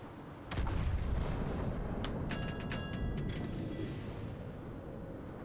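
Naval gunfire in World of Warships: a heavy booming salvo erupts suddenly and rolls on as a sustained low rumble, with a few metallic mechanical tones ringing over the top, loud and close, with no talk.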